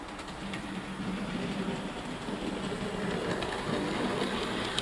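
A Hattons SE&CR P Class model locomotive in WW1 grey runs steadily on track, making a continuous soft whir and fine rattle that stays even and close throughout, with no voices.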